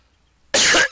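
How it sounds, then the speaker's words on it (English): A single sharp cough bursts out after half a second of near silence, followed by a short second burst, close and loud. "Cough, cough. Choke, choke."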